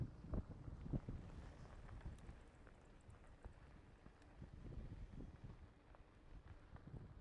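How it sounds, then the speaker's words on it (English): Gusty outdoor wind buffets a microphone, producing low, rumbling thumps and rushing noise that rise and fall irregularly at a faint overall level. "It's kind of windy today, sorry for that."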